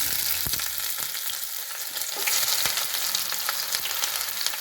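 Onions sizzle steadily in a hot pan for rajma curry, a dense crackling hiss with a few sharp clicks of stirring, close and continuous with no voices.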